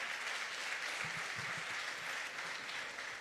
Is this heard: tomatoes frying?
no